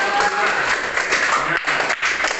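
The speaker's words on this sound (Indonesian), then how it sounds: "Sekarang kita kasih tepuk tangan ya untuk kelompok 2" Seventh-grade students in a classroom clap for a group that has just presented, a sustained, fairly close patter of many hands with brief dips near the end.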